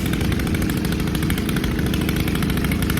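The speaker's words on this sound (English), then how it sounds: "We actually just got the tiller. There he goes." A small gasoline garden tiller engine running steadily nearby, a loud continuous buzzing drone with a rapid even firing pulse and no change in pitch over a few seconds.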